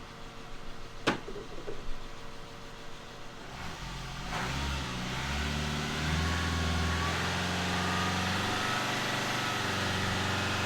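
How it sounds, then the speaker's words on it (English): A 2015 Subaru XV boxer diesel engine, a unit with failed regens that is making oil, revs up and holds steady at about 3000 rpm as a loud, continuous drone with no talk over it. "you want to rev it, Roddy, at 3000, my man"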